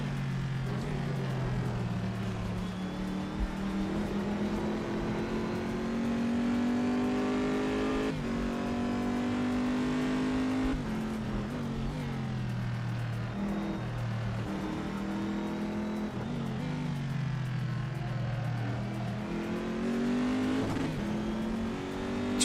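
Porsche race cars roar through a racing video game, engine notes rising and falling steadily with gear changes across the stretch, loud and continuous with no talk over them.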